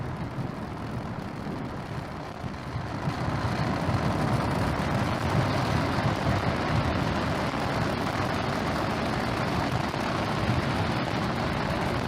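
SpaceX Falcon 9 first-stage engines roar during launch ascent as a broad, continuous rumble. The roar swells after the first few seconds and then holds loud and steady, heard from a distance.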